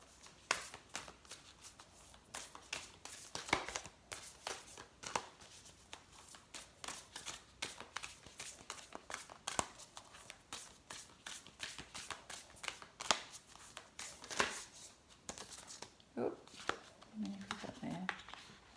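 A Sufi Wisdom Oracle card deck being shuffled by hand, a steady run of soft riffling and flicking card sounds that carries on for many seconds, close up, with occasional quiet talk.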